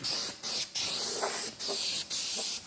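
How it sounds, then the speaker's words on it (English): A spray paint can hisses onto a Camaro part in several short bursts with brief pauses between them, close and loud, with no talk. "By the way, don't spray it too heavy. Do it in light coats."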